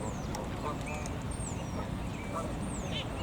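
A goose honks nearby outdoors, several short nasal calls scattered over steady background noise, with no talking.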